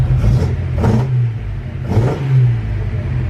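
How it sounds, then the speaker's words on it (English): A Nissan L28 straight-six engine revs up twice in quick bursts, a deep throaty roar rising and falling close by. "But I do love the way an L28 sounds."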